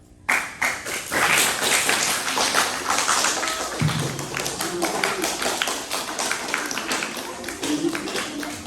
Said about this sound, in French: Des applaudissements du public